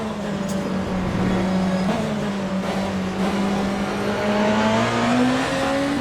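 Race car engines drone steadily in Le Mans Ultimate as a Ferrari and other cars battle toward a chicane, a loud sustained engine tone rising and falling through the gears with no talking.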